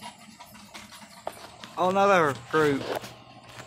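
Faint hooves clop along in the background as people chat, with horses pulling wagon riders passing by at a walking pace.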